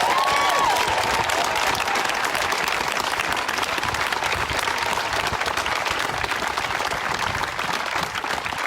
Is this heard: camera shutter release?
no